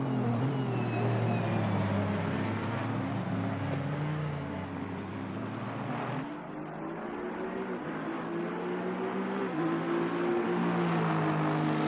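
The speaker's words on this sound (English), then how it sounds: "it's wonderful to hear these cars come past" Racing cars at Spa in a sim racing game during a 24-hour endurance event pass by, engines droning loudly with shifting pitch as each car sweeps past, one after another, with no talk.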